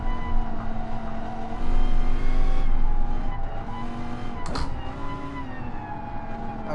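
Racing car engines in Gran Turismo Sport whine steadily at high pitch, with a brief harsh burst midway, continuous and fairly loud throughout.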